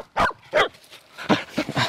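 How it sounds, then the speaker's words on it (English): A ruffed grouse hunting dog, a female, barks and whines eagerly before setting out, with several sharp yips and whimpers in a quick, uneven series that sound close and clear. "Does anybody else have a dog that tells them when they're ready to go?"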